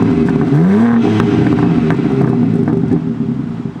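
A BMW G82 M4 revs in its M2 drive mode, the engine note climbing in one strong sweep and then easing back to a steady loud rumble, close and continuous throughout.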